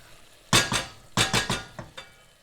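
A spoon clinks and scrapes against a bowl while cooked chicken breast is stirred, giving a few quick, close metallic knocks in short clusters with soft gaps between and no talk.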